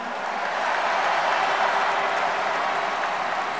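An audience at a Korean presidential primary campaign rally applauding, a dense sustained wash of clapping from a large crowd that stays loud and even throughout.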